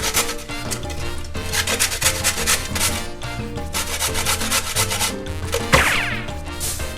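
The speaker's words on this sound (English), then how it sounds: "now we'll grate the carrot in there using the big side of our box grater here" Carrot rubbed against the large holes of a box grater, a rapid rhythmic rasping scrape repeating in quick strokes, close and fairly loud, with no talking.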